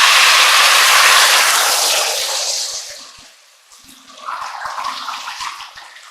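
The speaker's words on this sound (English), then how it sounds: "now I'm going to add 1/4 cup of white wine." Sauteing risotto rice hisses and sizzles loudly as a quarter cup of white wine is poured into the pan, the burst fading into a softer, crackling simmer.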